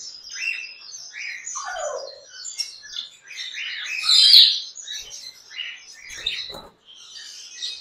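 African grey and other pet parrots at a bird seller's shop in Islamabad give a busy mix of squawks, chirps and whistles, with one louder shriek midway, close by and without talk.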